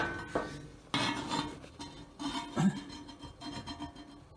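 A screwdriver works under the bed of a CNC plasma cutter, giving close, irregular metallic scrapes, rubs and small clinks with a few louder knocks, with no talk.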